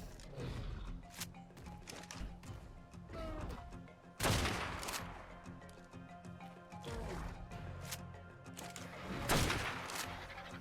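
Gunshots in Ark: Survival Evolved aimed at a creature: several sharp, loud cracks spread across the stretch, mixed with game ambience and faint creature sounds, with no talking.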